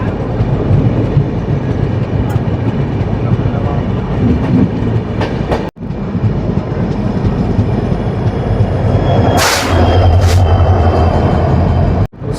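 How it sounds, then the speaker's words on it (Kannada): The 22691 Bengaluru–Delhi Rajdhani Express rumbles along steadily, a loud continuous roll of wheels and carriage noise with occasional clatter and a brief sharp hiss near the end, no voices. "ಸೊ ನಮ್ಮ ಟ್ರೈನ್ ಈಗ ಯಶವಂತಪುರ ಎಂಟ್ರ್ ಆಗ್ತೈತೆ."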